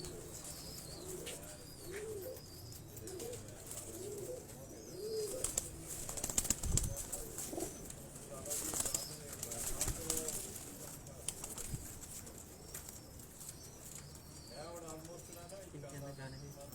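Teddy pigeons coo on a new rooftop loft in Johar Town, Lahore. Soft, rolling coos repeat in short rhythmic bursts, close but faint, with occasional wing flutters and a few sharp knocks.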